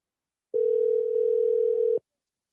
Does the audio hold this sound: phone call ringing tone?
yes